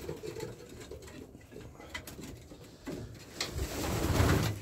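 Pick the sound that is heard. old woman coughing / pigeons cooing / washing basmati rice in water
pigeons cooing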